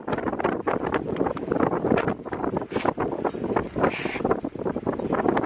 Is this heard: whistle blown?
no